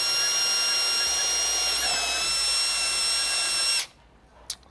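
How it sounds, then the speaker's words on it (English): Electric drill set to high revs boring a hole in a fin blade: a loud, steady high-pitched whine that cuts off abruptly near the end, followed by a brief small knock. "Make sure you've got your drill set to the highest revs, so it's spinning as quick as possible."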